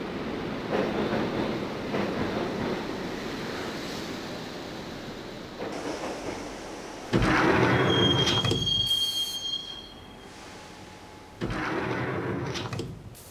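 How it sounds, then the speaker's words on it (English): Subway train ride in the video game Max Payne, with a steady rumbling roll and a squealing wheel screech partway through, followed by surges of rail noise, loud and close with no voices. "the train doors had already shut behind me, and I was in for the ride"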